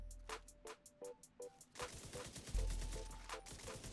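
Mines explode in the shooter The Division 2 among rapid gunfire-like cracks and a steady electronic tone, ending in a denser, louder burst of blasts.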